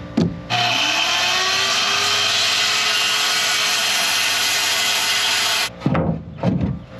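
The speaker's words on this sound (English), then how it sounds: "This job has made my favorite tool a chainsaw. I know this is a little weenie one." Small chainsaw cutting wood near a crab stand, a loud, steady buzzing whine held for about five seconds, then cutting off, followed by a few short thuds and clatters nearby.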